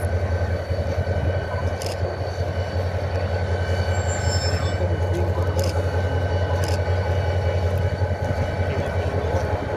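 Spanish railway locomotive 333-107 passes near Zamora, a loud, steady, broadband engine rumble with a deep low drone that holds strong for about ten seconds.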